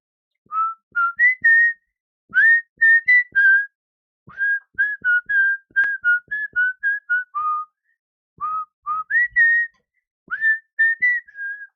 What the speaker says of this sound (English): stop whistling. Don't you whistle like that.